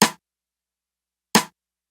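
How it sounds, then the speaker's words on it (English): Two isolated rim shot hits from a programmed beat, crisp and short, spaced about a second and a third apart with silence between. "Started off with a regular rim shot percussion sound"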